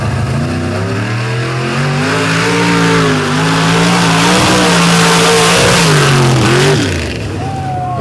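A drag racing car launches on a freshly groomed sand pit, its engine roaring loud and close with sweeping pitch rises as the wheels spin, then dropping off near the end.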